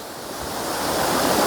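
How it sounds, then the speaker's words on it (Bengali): Borhill waterfall in Meghalaya pours with a continuous broad rushing roar that swells slightly louder over the short stretch, heard alone with no voices. "দেখুন, এই ঝর্ণাটা বোরহিল ঝর্ণা নামে এখানে পরিচিত।"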